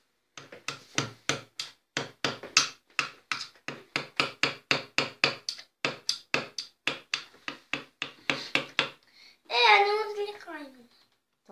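Plaster is chipped steadily from a children's Tyrannosaurus rex fossil dig kit, a long run of sharp, evenly spaced taps close by, ending with a brief burst of a voice.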